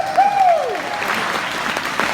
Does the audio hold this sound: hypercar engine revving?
no